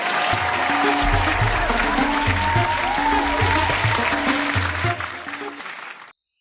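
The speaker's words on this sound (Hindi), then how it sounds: "जोरदार तालियों से अभिनंदन कीजिए" Loud, sustained applause from an audience greeting a poet at an Awadhi humorous poetry recital, steady dense clapping for about five seconds before it fades and stops abruptly.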